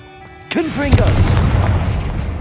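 Confringo fire spell cast in Hogwarts Legacy: a sudden loud magical blast with a whooshing crackle, then a rumbling roar of fire and debris that lingers for two seconds, with a voice briefly heard.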